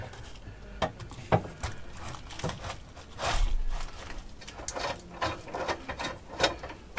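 A ratchet tightens the cradle bolts of an underslung grey water tank on an Iveco Daily van, quiet uneven clicking in short bursts with scattered knocks and pauses.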